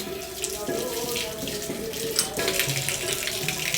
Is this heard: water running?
yes